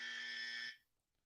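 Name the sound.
buzzer sound effect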